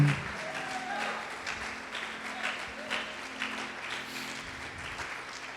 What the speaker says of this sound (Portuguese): Pode aplaudi-lo e glorificá-lo, louvado seja o nome do Senhor.